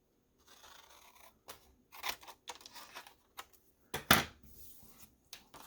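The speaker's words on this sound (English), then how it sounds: "I could probably just use scissors" Scissors snip through paper in a series of short, irregular crisp cuts at a craft desk, close and alone, with brief pauses between strokes and one louder snip near the middle.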